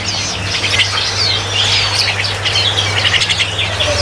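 High, thin chirps from a small young male songbird repeat steadily over a low constant hum, fairly close and clear, at a bird market in Bekasi, West Java.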